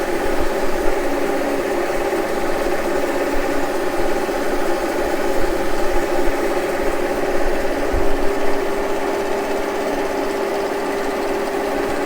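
A machine tool steadily cuts a gasket surface on a 1953 Harley-Davidson K Model part, a continuous droning hum with stable tonal whine and faint vibration, running without pause and no talking.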